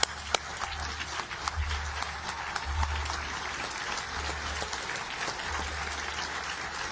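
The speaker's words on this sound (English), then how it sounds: "So let's give Martin a great, great round of applause. Give him a standing ovation." An audience at a speaking event applauds steadily throughout, a dense, sustained wash of clapping from many hands with no talking over it.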